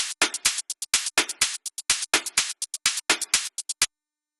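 A drum loop of a synthesized white-noise snare with rapid noise hi-hats: a steady, dense stream of bright ticking bursts with stronger snare accents, running for several seconds and then stopping, no voices.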